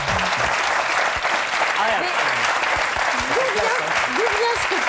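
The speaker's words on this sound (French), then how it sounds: "parce que ça applaudit, j'ai moins de force" A television studio audience applauds steadily and densely throughout, a continuous, loud roar of clapping, while someone talks over it.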